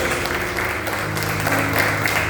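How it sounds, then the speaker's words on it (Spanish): A church congregation applauds for the Lord during a sermon, steady dense clapping filling the room beneath a sustained low musical hum, continuous and fairly loud throughout. "Den un buen aplauso al Señor, por favor."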